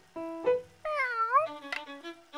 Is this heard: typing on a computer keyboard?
no